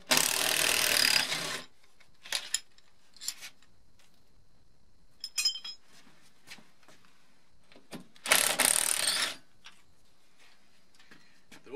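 Screws are being removed from a loose bus window panel with two loud buzzing bursts of a driver, separated by scattered clicks, ticks and knocks of metal and hardware.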